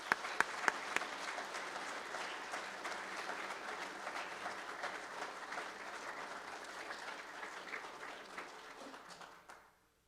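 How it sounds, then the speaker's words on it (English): Banquet audience at the GSL XXIV awards applauding the judges, a sustained round of clapping with a few sharp claps at the start that holds steady, then fades out near the end. "Please give a note of applause to these judges who work very,"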